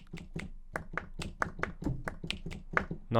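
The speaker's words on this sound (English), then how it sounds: "claps and snaps there" Sampled claps and finger snaps from the Opia Labs Opia percussion library play as a crisp, dry rhythmic pattern of about a dozen evenly spaced hits, close and alone.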